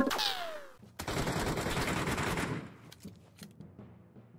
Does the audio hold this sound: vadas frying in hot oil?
no